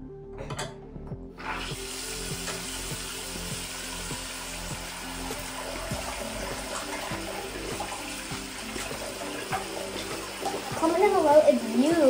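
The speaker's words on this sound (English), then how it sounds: "I'm gonna go ahead and get my water filled up." A water tap runs into a container as it fills, a steady close splashing and rushing flow that grows louder and more gurgling toward the end, with no talking.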